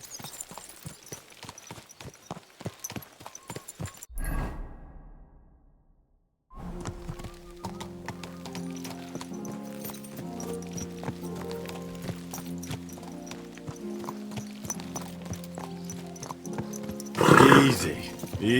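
A horse in the video game Kingdom Come: Deliverance 2 clops along with steady hoofbeats, goes quiet for a moment, then a snort and movement sounds return over a soft musical score.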